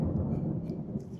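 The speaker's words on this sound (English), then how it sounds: "we're having a nice little thunderstorm today" A June thunderstorm in Florida rolls overhead, giving a brief, low rumble of thunder that stays steady and fairly loud through its short span, with no talking.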